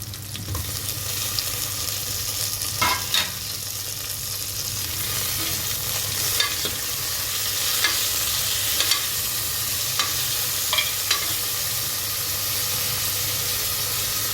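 Drumstick pieces and tomato pieces cook in a pan for sambar rice, giving a continuous close sizzle and hiss. Occasional soft scrapes and taps of a stirring spoon break through the sizzle, and no one speaks.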